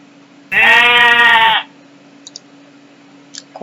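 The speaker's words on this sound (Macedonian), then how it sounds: "Коза." A single goat bleats loudly and close for about a second, a wavering, strongly voiced cry standing alone, followed by near silence with a few faint clicks and a steady low hum.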